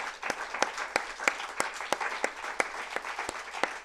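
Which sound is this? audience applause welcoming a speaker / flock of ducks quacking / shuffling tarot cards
audience applause welcoming a speaker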